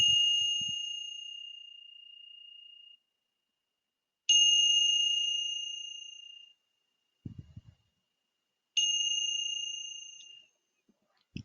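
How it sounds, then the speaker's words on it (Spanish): A meditation bell rings three times with long, fading tones, separated by silence, with a few soft low thumps between strikes. "van a escuchar primero el sonido de la campana."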